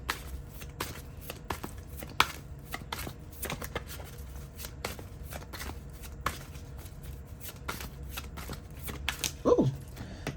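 A tarot deck is shuffled by hand in repeated quick riffling bursts of card flutter and soft slaps, close and moderately quiet, with a brief voice near the end.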